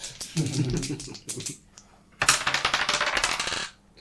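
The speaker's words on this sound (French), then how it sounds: "Lance 2 dés et prends le meilleur." Two dice clatter and rattle in two bursts, tumbling across a table during a tabletop role-playing game, separated by a short pause.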